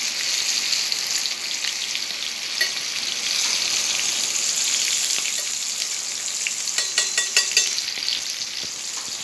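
Three pieces of banana sizzle steadily in hot oil in a pan for a home dinner, a continuous dense crackle with a few sharper pops and spits near the end, with no talking.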